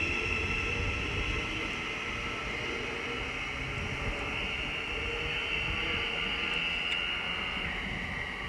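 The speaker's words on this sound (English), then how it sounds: "So the 1445 Thameslink service from London King's Cross to Peterborough is now departing." A Thameslink train departs Hitchin station on the East Coast Main Line, producing a steady, loud, continuous rumble and hiss with faint high tonal whine, with no breaks throughout.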